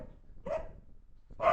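A dog barks twice, short and fairly close, with a brief quiet gap between the two barks.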